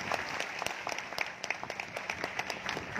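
Crowd at a BSP political rally in Chhattisgarh claps with scattered, uneven hand claps over a busy outdoor background, moderately loud and continuous for a few seconds.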